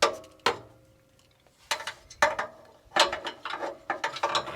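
A socket wrench with a swivel head ratchets under a 2019 Subaru WRX STI, tightening a muffler bolt: sharp clicking bursts separated by pauses, then a faster run of ratchet clicks near the end, close and clear.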